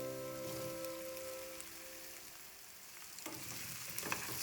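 Potatoes and cauliflower florets fry and sizzle with onions in a pan, a steady hiss broken by the scrape and clatter of stirring, loudest near the end; no one talks.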